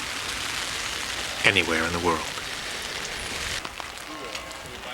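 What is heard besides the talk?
rain falling on a canal side street in Amsterdam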